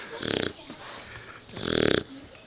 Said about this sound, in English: Are you gonna still snore, huh? Silly dog.